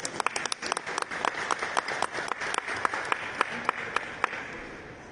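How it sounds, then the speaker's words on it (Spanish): An audience at a Peruvian ministry ceremony receiving a traditional art and handicraft collection applauds a regional award winner, dense clapping with sharp individual claps standing out, gradually tapering off. "Fuerte aplauso."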